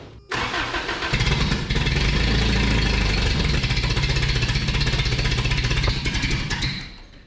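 The fuel-injected engine of a 1993 Toyota pickup cranks and catches after spark plug work, then runs with a loud, rough, uneven idle for several seconds before cutting out. It is close and continuous, with no one speaking over it.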